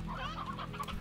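Chickens in the video game Slime Rancher clucking, a few short, close clucks over a steady low background hum from the game.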